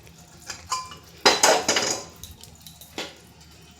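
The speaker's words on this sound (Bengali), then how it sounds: "এবার আমি একটা পাত্রে ঢেলে নিলাম।" Cooked chalta pumpkin chutney being poured into a container, heard as a few close clanks and scrapes of a utensil against the vessel, with one louder clattering burst in the middle and quiet gaps between.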